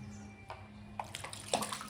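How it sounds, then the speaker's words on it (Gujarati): Water splashing softly as a small child is bathed at home on a summer day; faint, scattered splashes and drips sit over a low steady hum in a quiet room. "હાલો સ્નાન કરાવવાનું છે."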